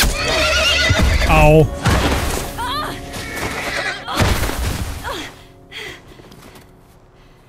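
Horse neighing in The Last of Us Part I video game, a whinnying call with clip-clop hoofbeats early on, loud and close, partly under excited talk and game effects.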